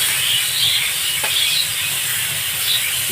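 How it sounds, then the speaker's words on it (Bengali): Potatoes go into hot oil tempered with nigella seeds and a dried red chilli, cooking for a parshe fish curry, giving a loud, steady sizzling hiss that fills the whole moment without any talk. "দিয়ে আমি আলুগুলো এর মধ্যে দিয়ে দিলাম"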